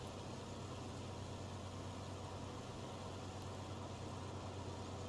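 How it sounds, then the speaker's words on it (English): Tractor engine in a farming game, a steady low rumbling drone running evenly throughout, fairly quiet and uninterrupted, with no voices. "this tractor sounds so good, doesn't it?"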